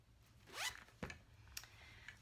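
A zipper on a patchwork pouch is pulled, making a close, crisp rising zip, then a second quick zip and a few small rattles of the pull.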